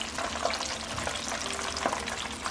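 Battered onion rings frying in hot oil give a steady, close sizzle and crackle with light bubbling, moderately soft and continuous with no talk.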